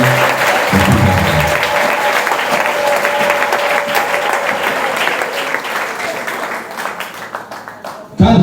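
A church concert crowd applauds loudly and continuously for a choir and pastor, with the clapping slowly thinning toward the end.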